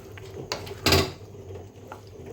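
Sago khichuri being stirred in a cooking pan, a few soft scraping clinks of the spoon against the pan with one louder scrape near the middle, close by, with no voices.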